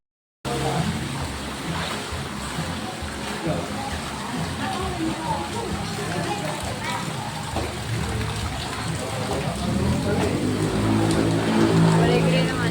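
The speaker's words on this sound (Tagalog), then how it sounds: "Tumulan talaga siya. Ulan." Steady rain falls outdoors as a continuous hiss that swells slightly near the end, with people talking quietly beneath it.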